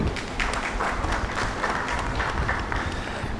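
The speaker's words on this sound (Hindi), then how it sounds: "उनके लिए भी जोरदार ताली।" Audience at a summit conference applauding an organizer, a brief burst of dense, even clapping lasting a few seconds, fairly loud and without speech over it.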